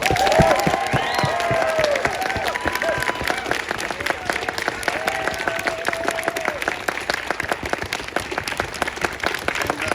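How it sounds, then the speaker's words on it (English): Crowd at an Atlanta Cop City protest applauding steadily and loudly for about ten seconds, dense hand clapping with scattered cheers and voices mixed in. "Can we all have a hand clap for our friends that are now out of jail?"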